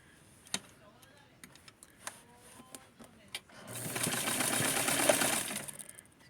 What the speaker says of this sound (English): what I do, just to keep the form, I sew it on the edge